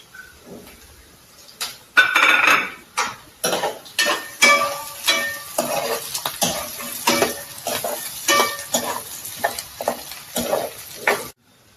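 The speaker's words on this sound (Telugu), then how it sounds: "కొంచెం ఉల్లిగడ్డలు వేగాయి కదా, ఇప్పుడు కొంచెం పచ్చిమిర్చి వేసుకున్నాము." Onions and green chillies fry in a pan for gongura chicken curry, with a steady hiss under repeated close scrapes and knocks of a spoon stirring them through the oil.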